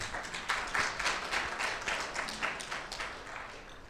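Lecture-hall audience at a conference applauding a speaker, a dense steady patter of many hands clapping at moderate distance, holding evenly throughout with no voices.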